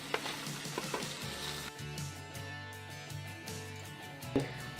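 Chettinad-style crab fry sizzling and being turned in a pan, a quiet continuous crackle broken by repeated stirring scrapes, close by.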